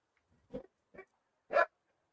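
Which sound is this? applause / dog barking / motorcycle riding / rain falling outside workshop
dog barking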